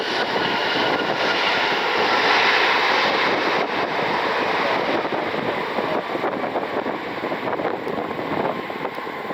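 An inbound Learjet jet roars steadily at an airport, a broad continuous rushing whine with some wind buffeting on the microphone, and no voices.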